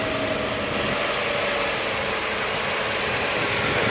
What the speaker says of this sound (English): Engine running relatively smooth.